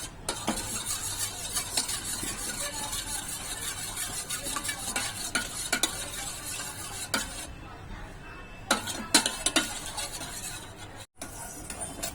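Steady sizzling and scraping of a utensil stirring Amul fresh cream heating in a hot pan for chocolate ganache, with occasional light clinks of metal, continuous and close.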